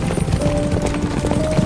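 Horse hooves clip-clopping in a steady rhythm at moderate loudness, with a faint tonal hum running underneath.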